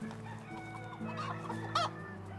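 Chickens cluck in a farm setting in a video game, a soft cluck and a brief crowing note over a steady low ambient hum and drone.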